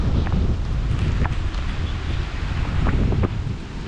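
Typhoon wind blows in strong, continuous gusts that buffet the microphone, a dense rushing roar with faint rustling mixed in and no voices.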